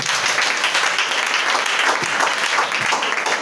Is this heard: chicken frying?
no